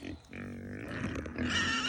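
Several farm pigs grunt and oink close by, calling out in a steady chorus of low snorts and squeals at morning feeding time, with a person's voice briefly mixed in.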